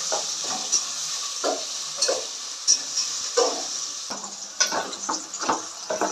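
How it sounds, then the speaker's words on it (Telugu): Chicken curry with onion paste being stirred in a pan, a spoon scraping and knocking in repeated strokes over a steady background sizzle, close and clear with no talking. "ఒకసారి కింది మీదకి అన్ని మంచిగా ముక్కలు కలగలిచేటట్టు కలుపుకోవాలి."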